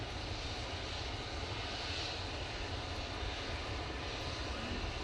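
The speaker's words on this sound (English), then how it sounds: "Air France A320 going back to Paris Charles de Gaulle Airport now." An Air France Airbus A320 jet airliner heading for Paris Charles de Gaulle, its engines producing a steady, loud, broadband roar that holds even throughout, with no talk over it, at a windy Manchester Airport.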